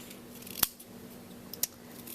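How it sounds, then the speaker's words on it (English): Scissors trimming the end of a ribbon knot on a handmade card: two crisp, close snips about a second apart in an otherwise quiet room. "Scissors."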